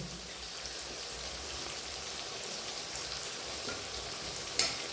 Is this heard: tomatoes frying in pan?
yes